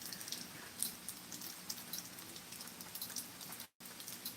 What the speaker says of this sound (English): It's been raining since last night.